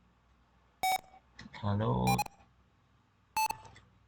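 Flood detection sensor project triggering its alarm once the water level passes 75%: two sharp, loud electronic beeps about two and a half seconds apart, with brief talking between them.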